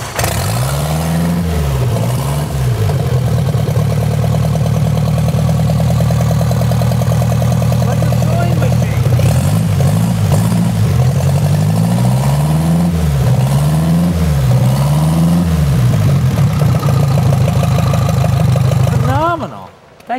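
Vintage 61 cubic inch motorcycle engine idling steadily and close, with a lumpy, loping beat and several throttle blips, running nearly the whole time before cutting off at the end.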